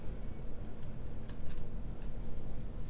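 Scissors trim a piece of card stock for a handmade Christmas card, soft snipping and rustle close up against a steady broadband background hiss.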